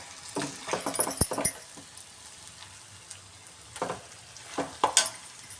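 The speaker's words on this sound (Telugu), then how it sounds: "చూడండి చికెన్ ఫ్రై ఇలా వేగిపోవాలండి." Chicken frying in a pan, a soft steady sizzle with bursts of stirring and scraping clatter in two clusters, close and moderately quiet, with no talking.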